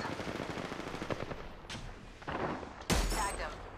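Bursts of automatic gunfire in Apex Legends, rapid overlapping shots with a louder blast near the end, while a voice speaks over the fight.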